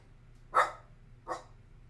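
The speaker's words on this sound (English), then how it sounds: "Sorry about my dog, yo." A dog barks twice, sharp and close, with a short pause between the two barks and a quiet room behind them.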